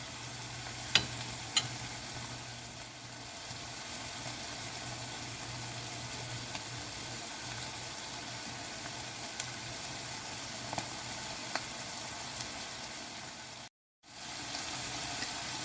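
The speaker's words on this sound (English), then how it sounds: "Can you hear them beginning to sizzle?" Sugar and oil sizzle in a pan as the caramelization begins, a soft, steady frying hiss running close and quiet with a few faint clicks and stirring knocks, broken by one brief dropout near the end.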